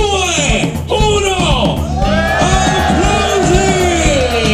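A crowd erupts in loud shouting and cheering right after a countdown at a pizza event, a sustained, close roar of many voices with whoops and yells blending together for several seconds.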